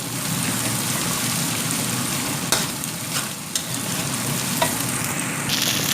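Egg and turkey bacon frying for fried rice, with a steady dense sizzle and scraping stir strokes throughout and a few sharper utensil clicks near the middle.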